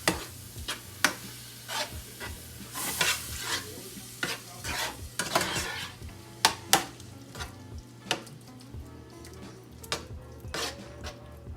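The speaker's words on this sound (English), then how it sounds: "I'm going to add my sauce. And stir it." A utensil stirs sauce through a sizzling pan with shrimp nearby, steady frying hiss under a run of sharp scraping and clinking strokes against the metal, close and fairly quiet.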